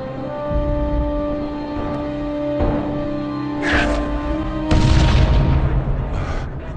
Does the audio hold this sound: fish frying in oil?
no